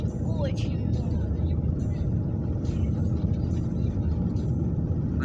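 A car driving through a blizzard on a snow-covered Norwegian road at around 55 km/h, giving a constant loud road rumble and wind roar with a few faint higher noises on top.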